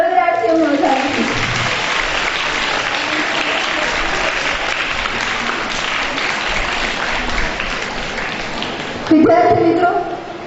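Audience at an Independence Day school gathering bursting into sustained, loud applause after a voice speaks, the clapping filling nearly ten seconds before swelling briefly and a voice returns at the end.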